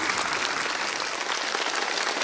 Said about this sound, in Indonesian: Yuk, tepuk tangan lagi.